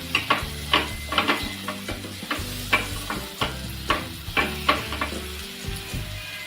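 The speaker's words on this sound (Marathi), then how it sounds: "मिक्स करून घेऊया." Banana flower vegetable cooked with chana dal, stirred and mixed in a pan with a steady rhythm of spatula scrapes over a soft sizzle, close and fairly loud, with no talking.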